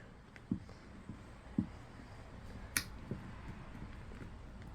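Plastic Hightail mount clips snapping into place, a few small sharp clicks spaced about a second apart, close and fairly quiet against a soft background.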